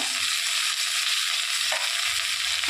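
Jackfruit and potato pieces fry in a pan with ginger, cumin and dried chilli pastes for a Bengali chholar dal, giving a steady close sizzle with a few soft stirring scrapes and no talk.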